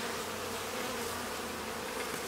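Honeybees hum around an opened beehive, a steady close buzz of many insects with no other sounds.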